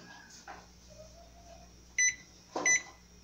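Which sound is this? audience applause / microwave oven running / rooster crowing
microwave oven running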